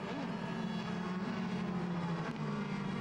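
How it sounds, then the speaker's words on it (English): A pace car drives past the main grandstand at Hockenheim during a DTM touring car race, its engine a steady, moderately distant drone with a faint tonal whine, no talk. "Pace car comes around into the main grandstand area."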